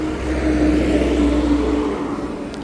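A black car's engine hums steadily with a mid-pitched whir and faint rising tone while driving, loud and close, with no talk.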